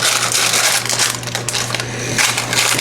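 Close crinkling and rustling of parchment paper being pressed and folded into a baking pan, corners folding around, over a low steady background hum.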